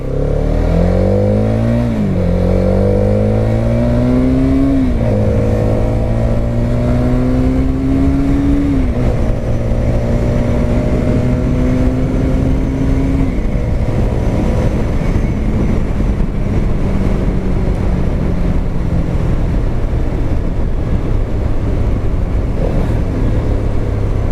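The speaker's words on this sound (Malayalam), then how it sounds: "നമുക്കപ്പോൾ ഇവിടെ നിന്ന് ചെറുതായിട്ടൊന്ന് വലിച്ചെടുക്കാം" A Hero Karizma XMR motorcycle accelerating hard, its engine revving up through several gear pulls, each rising whine dropping at the shift before climbing again. Loud and close, with no talking.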